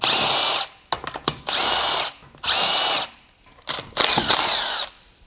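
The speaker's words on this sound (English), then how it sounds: "Using the large 19mm long socket with the large impact wrench, remove the right front wheel lug nuts." A large impact wrench with a long 19mm socket spins off the right front wheel lug nuts on a Honda Civic in a garage, several loud close bursts separated by short pauses and clicks.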